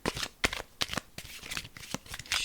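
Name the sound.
shuffling a deck of cards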